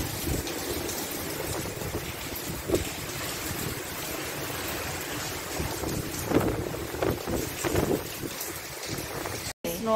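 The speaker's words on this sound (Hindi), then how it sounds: "आई बारिश आ रही है यहाँ पे, ओ बहुत तेज आ रही है" Strong wind buffeting the microphone with a steady roar of heavy rain underneath, gusts rising and falling, and faint voices in the background.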